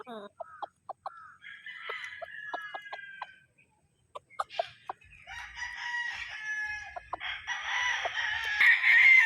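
A Butcher Mount Banahaw bloodline gamefowl rooster and hens, close by: short clucks and a rooster's crow, then layered calling from several birds over a growing noisy farmyard background.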